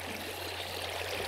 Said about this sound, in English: They're carried by water down into a second level